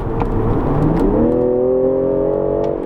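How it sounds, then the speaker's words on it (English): A 2020 BMW M340i's inline-six engine revs up and pulls hard under full throttle, its rising drone climbing in pitch as it accelerates, loud and close. "you just mash the throttle and it figures out what gear to put it in, and it just takes right off"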